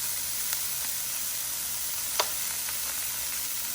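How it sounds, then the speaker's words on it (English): Onions and carrots fry steadily in a hot pan for keto hibachi-style fried rice, a continuous close sizzle with a couple of brief sharper crackles and no talking. "cooking our veggies for the fried rice"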